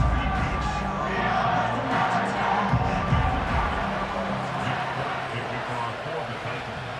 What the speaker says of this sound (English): And the home crowd loves it.